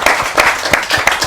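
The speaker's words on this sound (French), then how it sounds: "Applaudissez." Audience at a children's show applauds after a recitation, a short loud burst of close, uneven clapping with distinct individual hand strikes.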